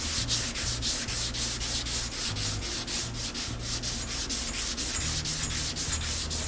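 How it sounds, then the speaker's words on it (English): Hand block sanding of epoxy primer on a car door panel, a fast, even rhythm of gritty back-and-forth rubbing strokes, close and continuous with no talk. "Make sure all your sanding marks aren't going in one direction"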